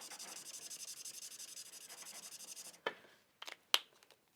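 An alcohol marker's fine-liner tip strokes over paper in a quick, even back-and-forth scratching rhythm, close and quiet, then stops and gives way to a few faint taps and rustles.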